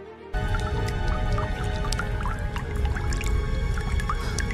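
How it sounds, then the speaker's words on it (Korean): Water dripping continuously from icicles on a cave ceiling, many scattered plinking drops with hollow resonance over a dense watery background, starting abruptly after a brief silence. "동굴 천장의 고드름에서 끊임없이 물방울이 떨어지는 것을 보았습니다"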